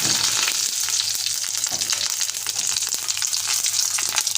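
Mustard seeds and curry leaves sizzle steadily in hot oil in a home kitchen while making a jackfruit seed masala curry, a dense crackling hiss with scattered pops, loud and close throughout with no talking.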